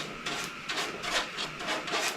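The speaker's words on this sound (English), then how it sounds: "And now just a lot of staining." Rhythmic rubbing of stain onto scrap wood for a floating shelf, a cloth swept back and forth in repeated strokes, fairly close and soft, with no talking.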